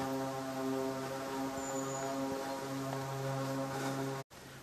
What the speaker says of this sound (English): Sound of aircraft overhead.